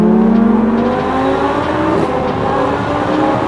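An Audi R8 V10 Plus with an aftermarket exhaust accelerates hard, its V10 engine note rising steadily in pitch through a loud, continuous, close-up roar from inside the car.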